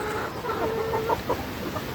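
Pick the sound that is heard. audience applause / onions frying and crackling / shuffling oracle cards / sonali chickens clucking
sonali chickens clucking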